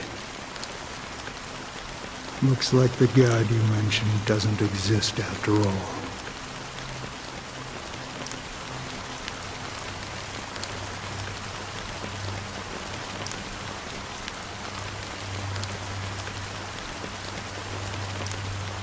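Steady rain falls throughout, a soft continuous wash, while a voice speaks briefly near the start over a short burst of musical or game sounds.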